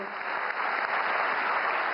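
An audience at a Marathi literary conference applauds a Kashmiri singer, a dense, continuous wash of clapping from a large crowd that holds steady throughout, with no talk over it.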